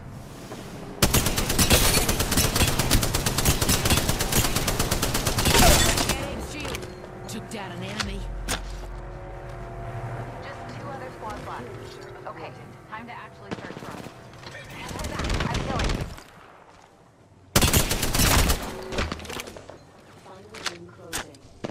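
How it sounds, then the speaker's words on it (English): Automatic weapon fire in the battle royale shooter Apex Legends, loud sustained bursts at the start, then a quieter stretch of scattered game sounds, with shorter volleys returning later; someone talks over parts of it. "Opening fire on our prey."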